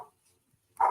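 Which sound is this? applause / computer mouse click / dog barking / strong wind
dog barking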